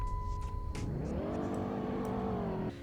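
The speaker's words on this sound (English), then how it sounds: "Let's turn up the volume here and rev it." A 2008 Dodge Charger SXT with a V6 engine revs from idle, rising in pitch to a held, moderately loud drone before dropping back.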